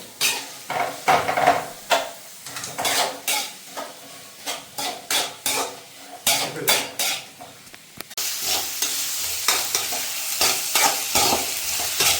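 Onions sautéing in a pan for Thrissur-style beef with raw banana, heard as rhythmic scraping stirs at close range that give way to a steadier, louder sizzle toward the end.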